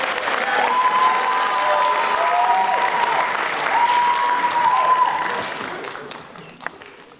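Audience at a high school varsity jacket night applauding student athletes, a sustained roar of clapping and cheering from a full room that fades out over the last two seconds, with a voice briefly over it.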